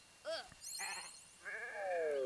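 Cartoonish sheep bleats from the video game Renowned Explorers, several short wavering cries in a row, loud and close, with bright synthetic game effects around them.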